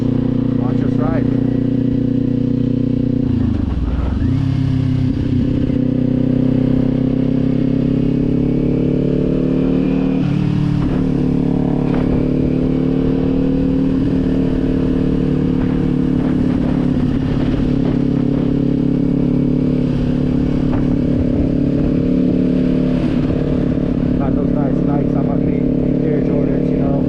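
Kawasaki motorcycle fitted with a Leo Vince exhaust, ridden on back roads: a steady loud engine drone with rising and falling revs, a sharp dip around four seconds, continuous throughout.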